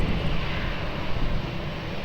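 Fixed-wing airliner taking off from runway 20 at Lisbon Airport in gusty wind, a steady, loud broadband engine roar filling the whole stretch with no talk.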